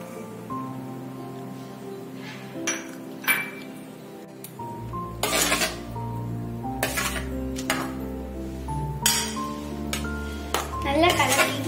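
Curd rice is mixed in a bowl with a spoon, giving repeated clinks and scrapes against the dish at an uneven rhythm, close by, with tonal background sound underneath.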